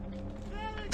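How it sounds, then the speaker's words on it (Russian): A hand grenade detonates in trench combat during an assault on enemy positions at sunrise: a sudden loud, broadband blast right at the end, following a stretch of low rumbling background. "Граната! Лягай!"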